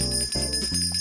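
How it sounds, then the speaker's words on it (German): A doorbell rings at night in a Berlin flat, a short bright bell-like tone with sustained harmonic layers, loud and close for about a second with no voices. "Wer klingelt denn um die Uhrzeit hier?"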